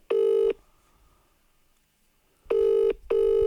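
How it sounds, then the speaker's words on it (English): Telephone tones sound in two loud bursts, one short beep near the start and a pair of beeps after a quiet gap, as a call is placed to a friend. "Nah, I'm ringing him."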